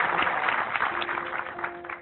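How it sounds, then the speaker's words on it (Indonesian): Brief applause from an audience at a motivational talk, moderately close and fairly even, fading slightly toward the end, with no one speaking over it. "tepuk tangan dulu dong untuk Ibu"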